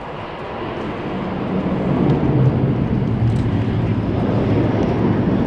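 Airliner in a special Den RTR livery at London City Airport, a broad low engine rumble that swells slightly and then holds steady, fairly close and continuous.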